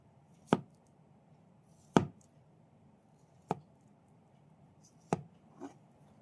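Knife chopping food, five sharp separate chops spaced about a second and a half apart over a quiet background, close and distinct, no talking.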